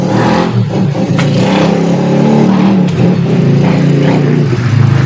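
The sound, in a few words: motorcycle engine revving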